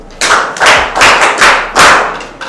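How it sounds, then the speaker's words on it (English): Classroom clapping for a student, five loud, close, separate claps or thuds in an uneven rhythm, each with a short decay and nothing in between. "Clap for her."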